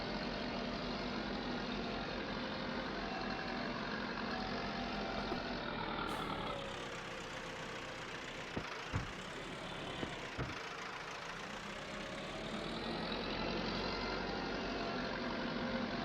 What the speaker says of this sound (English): This tractor's running like a dream as well.